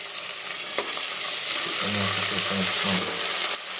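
Peas tossed into a hot pan for village-style tomato bath, frying with a steady sizzle and hiss while a spoon stirs them, a low bubbling burble rising midway, close and fairly loud with no talking.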